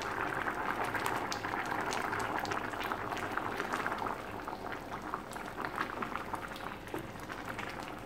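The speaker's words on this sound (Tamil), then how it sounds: "ஒரு 2 நிமிஷம் கொதிக்க விட்டால் போதும்." Potato kurma curry with ground coconut bubbling steadily in a pot, a dense continuous simmer with popping bursts, close and fairly loud without any talking.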